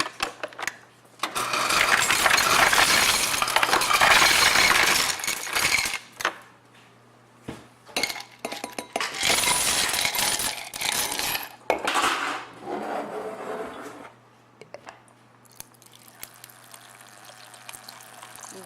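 Ice cubes clatter and rattle into glass wine glasses in bursts, sharp clinks and tumbling cubes close by, separated by short quiet gaps.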